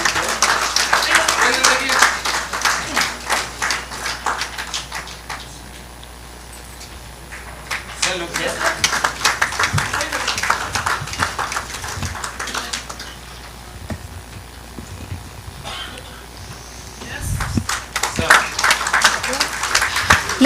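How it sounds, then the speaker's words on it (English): An audience at a Ministry of Steel award ceremony claps loudly and steadily for an honoured recipient. The applause swells and dips in waves over about twenty seconds, with voices mixed in beneath it. "Please, can I have some more applause, a bigger applause?"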